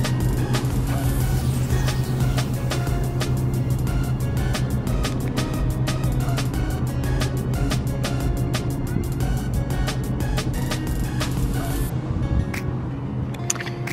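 Steady traffic of cars rolling past across the water beyond a yacht dock, a continuous loud wash of road noise with passing engine hum and no talk.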